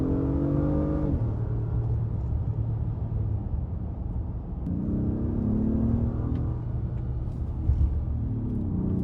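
A 2025 Acura MDX Type S in Sport Plus mode accelerates hard from inside the cabin. The engine drone rises in pitch, drops at a gear change, then climbs again through a second pull. There is no talking.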